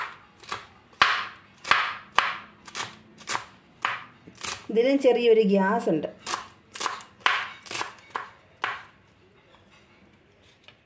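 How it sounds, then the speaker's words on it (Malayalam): A knife chops spring onion stalks on a board for a green thoran. The crisp chops are steady and evenly spaced, with a brief spoken remark partway through before the chopping carries on. "സവാളത്തണ്ട് മുഴുവൻ നമ്മളിവിടെ അരിഞ്ഞെടുത്തിട്ടുണ്ട്"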